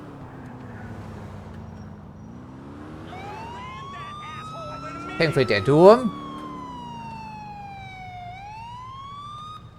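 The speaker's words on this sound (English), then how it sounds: "People will probably respond to our emergency siren, I would think." Emergency siren wailing in Grand Theft Auto IV gameplay, rising and falling steadily for several seconds while someone talks over it, with a short cluster of sharp bursts partway through.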